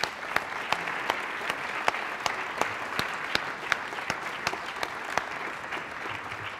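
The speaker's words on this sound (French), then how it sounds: "On peut les applaudir." Applause from an audience at a school prize-giving ceremony, a steady patter of many hands with distinct individual claps ringing out at regular intervals, moderately distant and even.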